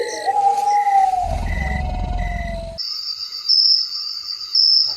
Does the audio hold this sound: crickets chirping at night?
yes